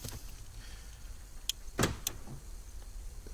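Door lock actuators on a 2014-2015 Nissan Rogue firing via remote, a few sharp clicks and one thicker clunk near the middle, fairly faint against a quiet background hiss with no talking.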